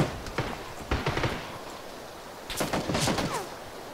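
Bursts of gunfire in PlayerUnknown's Battlegrounds, several quick shots early on, then a second volley of sharp cracks after a short lull, moderately loud over background game ambience.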